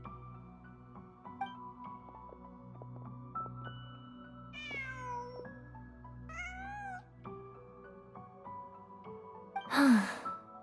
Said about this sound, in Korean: 고양이였나?